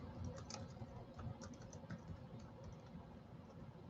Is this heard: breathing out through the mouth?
no